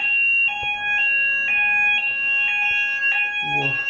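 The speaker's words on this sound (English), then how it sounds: "today I got woke up by the fire alarm" A fire alarm beeps in loud, steady repeated pulses with a sharp high electronic tone, heard close and alone through the clip, with a brief voice near the end.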